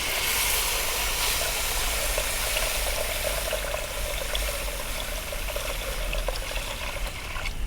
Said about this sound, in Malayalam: 1/2 ലിറ്റർ വെള്ളം ചേർത്ത് കൊടുക്കാം.